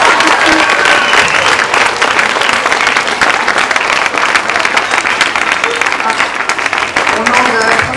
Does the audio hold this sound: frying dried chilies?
no